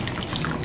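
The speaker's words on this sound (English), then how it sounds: "So we have boiling water, we're gonna add a little bit of vinegar." Distilled white vinegar splashing into a pot of boiling water for poaching an egg, heard as a brief wet trickle and drip over the bubbling water, fairly close and moderately loud.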